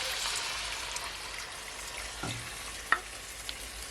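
Stock poured into a hot pot holding carrot and potato for Jamaican curry chicken feet sizzles and bubbles, a steady frying hiss punctuated by a few clinks and stirring knocks, heard up close without talk.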